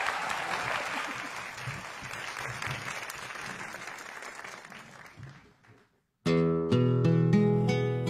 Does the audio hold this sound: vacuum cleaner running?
no